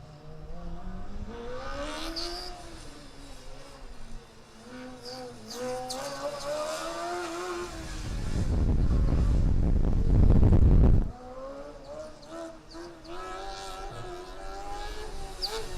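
A Formula Student race car on an autocross lap eases through the transition from the north curve to the infield, its high-revving engine buzzing and rising in pitch, then a loud close pass-by before fading off.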